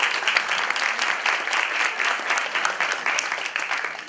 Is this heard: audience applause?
yes